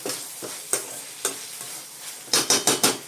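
Masala sautéing in a pan for a prawn semi-gravy, with a low sizzle and a series of sharp spatula scrapes and stirs, the last few quick and louder in a burst.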